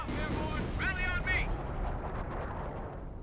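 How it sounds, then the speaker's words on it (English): An artillery barrage booms in a Company of Heroes 1 battle between British and German forces. Several deep, rumbling blasts sound at mid distance beneath steady talk, with scattered pops. "Here's some sort of artillery barrage."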